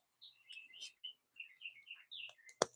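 Birds outside a home woodworking shop sing a quick run of high chirps and warbled tweets, close and distinct, ending with a single sharp click.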